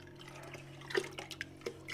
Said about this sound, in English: filling it up with some water